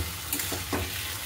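Tomato sauce and soy sauce mixture stir-fried in a pan for chilli chicken, a steady close sizzle with a few brief scraping stirs, no talking.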